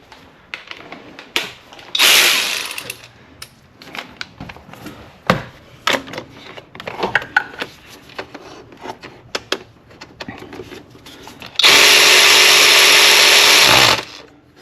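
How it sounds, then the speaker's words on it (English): Power tool or ratchet working bolts on the belt tensioner of a Mercedes-Benz E350 3.5L, two loud sustained bursts, one short and one about two seconds long, separated by scattered clicks and clanks of tool handling. "Take the ratchet."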